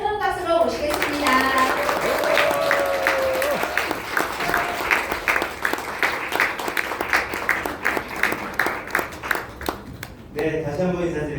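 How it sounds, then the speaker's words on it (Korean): An indoor audience breaks into steady, sustained applause to welcome a speaker at a company headquarters event, the clapping building quickly and fading out near the end, with brief talk just before and after. "오재용 부장님을 큰 박수로 모시겠습니다."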